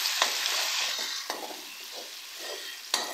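Ginger garlic paste frying in half a cup of hot oil, a steady bright sizzle with a few sharp pops and faint stirring scrapes, close and continuous with no talk.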